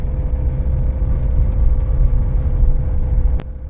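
A car drives along a road in Norway, with a steady, loud low rumble of engine and tyres heard from inside, continuous throughout with a brief knock near the end.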